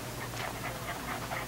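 A dog pants steadily at close range, a quiet rhythmic series of breathy huffs repeating about every quarter second, with no talk.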